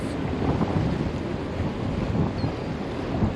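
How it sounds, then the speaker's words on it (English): Strong wind blowing across a boat on open water in New York, a loud, steady roar of rushing air buffeting the microphone throughout, with no voices. "Pretty good wind out here."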